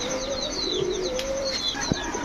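Afsan grizzle pigeons, a male among pigeons sold by a street vendor, give soft repeated coos with some chirps layered over steady background noise, close and moderately loud.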